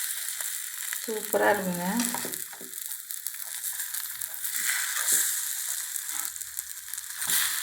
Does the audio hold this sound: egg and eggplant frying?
yes